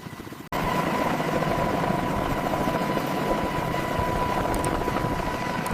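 Apache combat helicopter engaging its rotor, a loud, steady close whine and throbbing roar kicking in abruptly after a short quieter start and holding constant, no voices.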